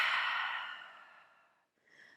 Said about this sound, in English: Inhale through the nose for the count of 4 or 5. And exhale out through the mouth.